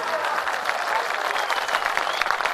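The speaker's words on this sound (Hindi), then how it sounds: "थोड़ी तालियां बजी, वातावरण बजा।" Audience clapping at a Hindi heroic-verse poetry recital (kavi sammelan): steady, dense applause from a crowd that holds at an even level for a couple of seconds.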